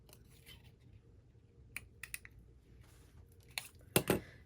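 A craft punch cutting 2 1/4 inch holes in paper scraps, a few quiet clicks followed by a louder pair of crunchy snaps near the end, close against a soft background hiss.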